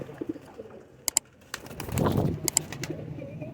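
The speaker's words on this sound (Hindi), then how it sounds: "ये दोस्तों दूसरा कबूतर है" Teddy pigeons coo in a loft, soft throaty calls rising around the middle, with sharp clicks and brief rustles or flutters scattered before and after, close by and without talk.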